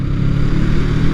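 A Honda CMX 500 Rebel S motorcycle accelerates with a steady, close, low engine drone, loud and unbroken through the brief moment.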